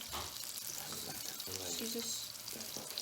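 Fish fillets fry in a hot pan with a steady, close sizzle and crackle that runs throughout, mixed with some faint kitchen handling sounds.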